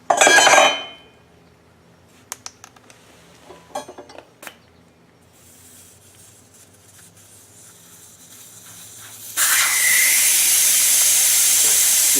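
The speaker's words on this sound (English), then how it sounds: "I have a TPMS or valve stem core tool that I can let the air out real quick." A bright, steady hiss of air escapes a tire as the valve stem core is pulled with a core tool on a Harbor Freight tire changer. It comes on loud after a quiet stretch with a few metallic clicks and a short burst at the start.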